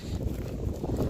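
Steady wind blowing across open village farm fields, a continuous low rushing roar with gusty swells, close to the microphone and with no voices.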